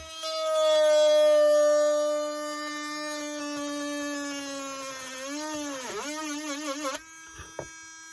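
A power drill whines at a steady pitch, then bogs down and wavers as it bites into monorail parts before cutting off.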